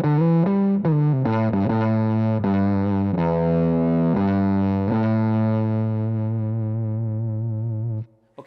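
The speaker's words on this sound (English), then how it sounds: "asymmetrical is kind of a fuzz kind of thing" A harmonically rich, buzzy guitar with asymmetrical-clipping fuzz distortion plays a short sequence of sustained notes, then holds a final note that fades out abruptly near the end.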